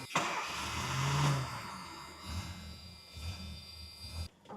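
Ford Mustang engine cranking and catching, then settling into a low rumbling idle heard from inside the car, moderately loud with slight surges before cutting off at the end.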